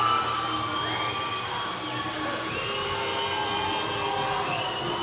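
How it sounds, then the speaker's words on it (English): A college ice hockey crowd cheering at the rink after a goal, a dense, sustained roar of many voices with shrill shouts layered on top, filling the arena at steady loudness. "it's all cheers and celebrations here for the Broncos"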